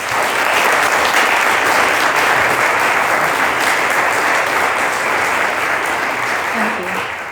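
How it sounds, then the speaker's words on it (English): A panel-discussion audience breaks into loud, sustained applause at the opening of the panel, dense close clapping continuing evenly before easing slightly at the end. "So if we could just start with a round of applause"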